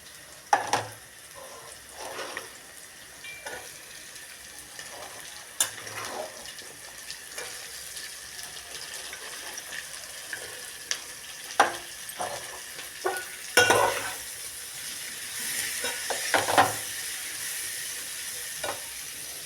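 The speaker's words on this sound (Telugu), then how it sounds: "క్యాబేజీ వేసేసి దాన్ని మంచిగా కలపాలి. ఆయిల్లో కలిపి మగ్గనివ్వాలి." Cabbage tossed into hot oil with turmeric for a Telugu cabbage curry, frying with a soft sizzle while a spoon scrapes and stirs in scattered strokes, with a louder burst of clatter midway; no one speaks.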